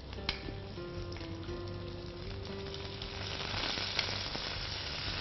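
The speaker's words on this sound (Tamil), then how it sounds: "சின்ன வயமும் பூண்டும் நல்லா ஃப்ரை ஆகிட்ருக்கு." Shallots and garlic fry in a pan as part of a fish curry, giving a continuous, fairly quiet sizzle with occasional small pops and no voices.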